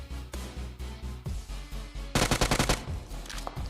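Gunfire in a PUBG Mobile match: a string of single shots at a steady, moderately quick pace, then a louder, faster burst near the middle, followed by a few scattered shots.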